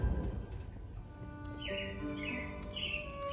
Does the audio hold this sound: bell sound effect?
no